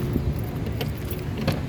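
Toyota Avanza car keys jangling near the vehicle, a few short metallic clinks and rattles over a low steady background hum.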